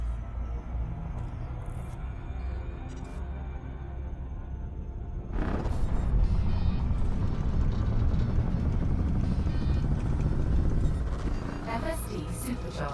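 A fully engineered frameshift drive with a Guardian booster supercharging aboard a Caspian Explorer ship in a space video game, a steady low rumbling hum that swells louder partway through and holds, with no talk over it.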